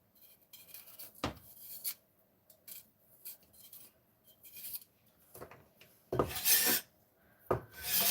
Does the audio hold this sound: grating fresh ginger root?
yes